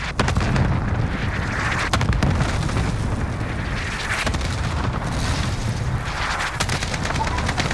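An airstrike in Call of Duty Warzone Resurgence bombs the area in a continuous, loud roar of booms and blasts that rumble on throughout, with gunfire mixed into the dense din.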